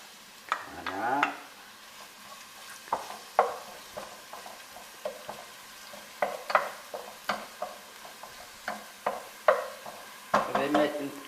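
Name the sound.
onion and garlic frying in olive oil, being stirred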